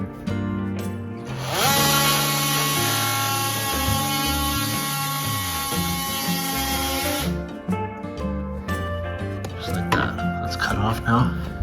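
A power saw blade cuts through a pipe during facilities maintenance work, a loud sustained whining buzz running several seconds before winding down, with clattering and handling noises after.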